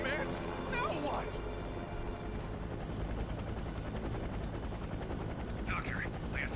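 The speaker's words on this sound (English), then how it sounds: "Drop altitude and land your helicopter at once." A helicopter in the Trauma Team video game gives off a steady low rotor drone throughout, with sharp game sound effects and voices talking over it.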